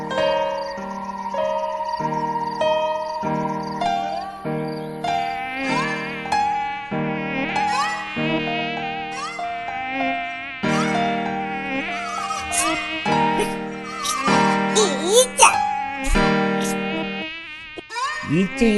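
A cartoon housefly in a Malayalam kids' animation buzzes with a wavering, high-pitched drone that weaves through bright, plinking background music for the full stretch, the buzzing rising and falling in pitch.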